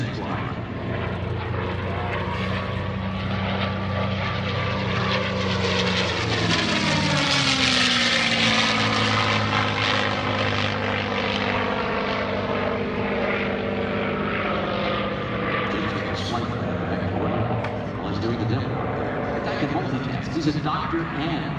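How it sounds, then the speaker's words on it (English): A P-51D Mustang propeller fighter flying at a military air show, its deep droning engine loud and sustained, swelling and shifting in pitch as it passes, with a voice talking over it. "We were lucky enough to see its wingman, Jim Beasley, and the Mustang fly."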